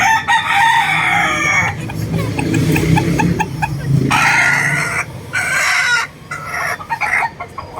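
Gold Hennie chickens in a backyard cluck steadily and crow loudly, several birds close by with overlapping calls and no one talking.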